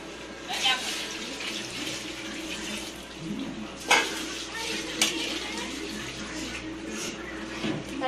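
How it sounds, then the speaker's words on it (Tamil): Water is poured into biryani masala in a pot, making a continuous close splashing and trickling with occasional metallic clinks of utensils against the pot. "இப்போ இதில் 1க்கு 1/2 தண்ணி ஊற்றணும்."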